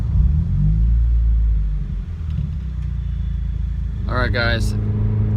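A 2015 Subaru WRX with a new Whiteline sway bar runs up a highway on-ramp, its engine a steady low rumble throughout from inside the cabin, while someone speaks briefly near the end.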